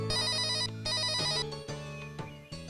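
A mobile phone rings with a loud, melodic electronic ringtone, its repeating tones sounding close and clear with no talk over them.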